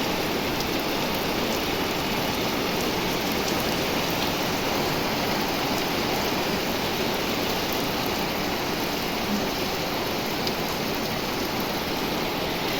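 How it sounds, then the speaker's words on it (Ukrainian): Soft, steady rain falls without a break for nearly thirteen seconds, an even hiss with no separate drops, no thunder and no voices. "Так що такий у нас дощик гарний, да такий тихенький"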